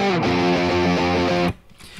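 A distorted, harmonically rich synth or guitar swell produced in Ableton Live rises and sustains with a buzzing, saturated tone, then cuts off abruptly into a brief quiet tail.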